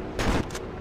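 Gunfire in a video game, one short loud burst of shots lasting a fraction of a second, close and sharp, over a faint background.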